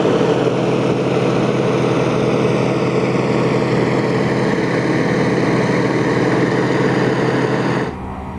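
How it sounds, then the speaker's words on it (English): The engines of a B-17G Flying Fortress in Microsoft Flight Simulator, flying out of Duxford, give a loud, continuous propeller drone with a steady pitch that drops away abruptly at the very end. "just adjusting the engines a little bit there"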